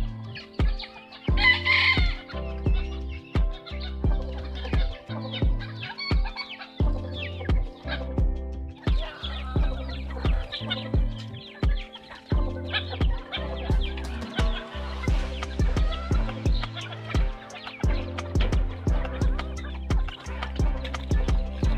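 Bantam chickens at a poultry farm cluck steadily in a dense, continuous mix, with a rooster crowing once near the start; close and fairly loud throughout, no talking.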